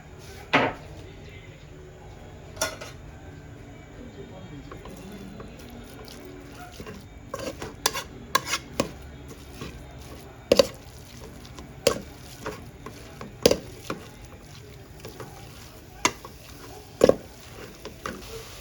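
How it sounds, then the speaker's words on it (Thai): Minced meat for northern Thai larb is stir-roasted in a pan with a splash of water, a soft steady sizzle broken by sharp scraping clanks of the spatula, mostly without talk. "ใส่น้ำไปค่ะ ไม่ต้องเยอะค่ะ คั่วไปด้วย คือทำไปด้วยคั่วไปด้วย"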